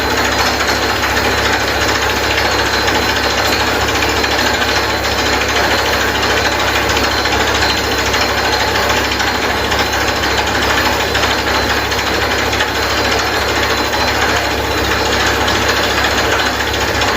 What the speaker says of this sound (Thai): นี่คือเจาะใหม่บ่อใหม่